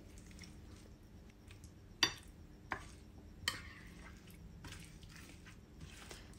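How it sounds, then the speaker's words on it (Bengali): A spoon stirs ghee into beef biryani masala in a pot, giving soft scraping and a few sharp clinks against the metal, fairly quiet and intermittent. "এটা চামচ দিয়ে আমি মিক্স করে নিচ্ছি"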